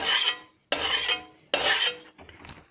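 Turmeric being roasted in a pan while a utensil scrapes and stirs it, three distinct rasping strokes in quick succession followed by a fainter fourth, close and clear with no talk.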